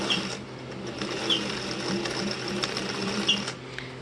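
Sewing machine stitching baby rickrack onto a hoodie with a straight stitch, a steady close motor whir with rapid needle clatter running the whole time at an even pace.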